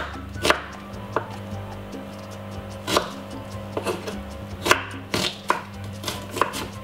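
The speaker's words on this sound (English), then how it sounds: "And all I'm going to do is cut it up a little bit small." Knife chopping a medium white onion on a board, a series of sharp, irregular cuts close by with pauses between strokes, no talking.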